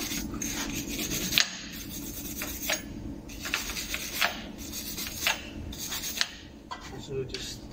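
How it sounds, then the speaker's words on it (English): A wire brush is scrubbed over a rusty brake disc from a Golf Mk1 or Caddy, making repeated raspy scratching strokes in an uneven rhythm, fairly close and moderately loud. "I'll just give this a bit of a clean with some brake cleaner and a wire brush"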